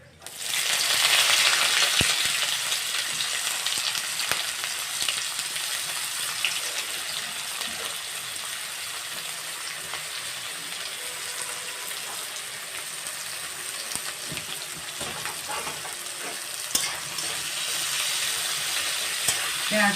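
Onions fry in hot oil for a mourala fish jhal, a loud, continuous close sizzle that swells at the start and holds steady, with occasional faint pops.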